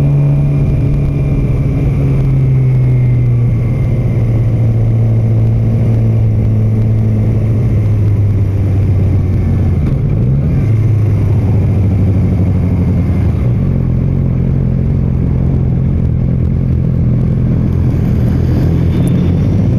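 Cars racing around close by, a loud continuous engine roar with shifting pitch that swells and dips as vehicles pass and accelerate, filling the whole stretch with no talk.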